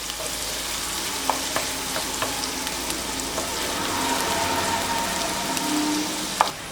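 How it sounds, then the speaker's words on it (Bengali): Chopped onion fries in a pan for a cabbage bun snack, giving a steady close sizzle with scattered light clicks and scrapes of stirring throughout. "এখন একটু ভালো করে পেঁয়াজটাকে ভেজে নিতে হবে"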